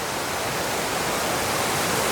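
Water runs steadily over the ground beside a forest trail, a close, even broadband rush like a small stream or trickling runoff, constant throughout with no voices.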